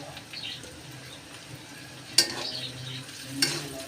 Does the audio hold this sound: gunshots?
no